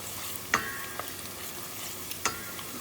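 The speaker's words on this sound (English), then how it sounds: "We are making smoky jollof rice, a portion." Smoky jollof rice being stirred and fried in a pot, a soft continuous sizzle broken by two sharp scraping strokes of the spoon, close up with no talking.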